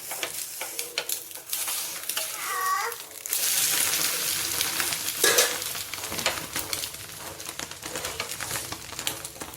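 A plain egg omelette cooking in a pan for egg dosa makes a soft, steady sizzle with intermittent clicks and scrapes and a brief louder burst of hissing partway through, quiet and close with no talking.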